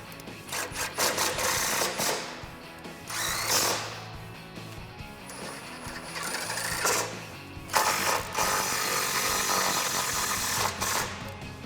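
A ratchet tightens the bolts on a Rugged Ridge Spartacus front bumper for a Jeep Wrangler JL, giving bursts of rapid metallic clicking between brief pauses, close-up and without talking.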